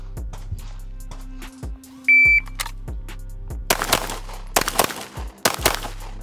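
Staccato P pistol shots during an accelerator drill: a shot-timer beep, then a series of sharp, loud gunshots in quick pairs and clusters at an outdoor range.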